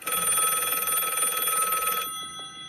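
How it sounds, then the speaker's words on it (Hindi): A telephone bell rings continuously and loudly for about two seconds, then cuts off, leaving a faint tail of quieter ringing tones in a hushed room. "उसे थोड़ी देर बाद ही उसके सीनियर का फोन आया।"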